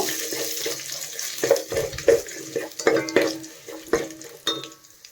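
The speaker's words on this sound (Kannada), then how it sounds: "ಇದು ಬ್ಯಾಡ್ಗಿ ಮತ್ತು ಖಾರದ ಮೆಣಸಿನ್ಕಾಯಿ ಎರಡೂ ಇದೆ ಇದು ಸ್ವಲ್ಪ ಫ್ರೈ ಆಗಬೇಕು" Byadgi and hot red chillies frying in a pan, with sizzling and stirring scrapes that come in irregular bursts, close and fairly loud, with no talk over them.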